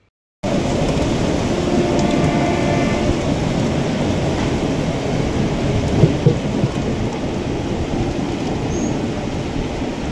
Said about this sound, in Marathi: नवी मुंबईमध्ये पावसाच्या जोरदार सरी कोसळत आहेत